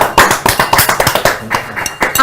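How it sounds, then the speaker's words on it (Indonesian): Hands clapping in applause to honour a student's gold medal at the West Java provincial sports games, a few people clapping close by in a quick, uneven patter with a faint voice beneath. "tepuk tangan dong"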